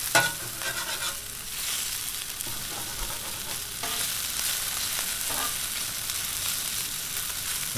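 Pepper steak sizzles steadily on a Blackstone griddle as it is stirred and scraped, a constant close hiss of frying broken by occasional spatula scrapes, with no talking.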